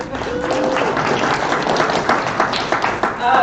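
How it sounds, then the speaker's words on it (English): An audience at a swim team banquet claps warmly, a thick continuous patter of applause filling the room and holding steady for a few seconds. "Yeah, you can clap for that."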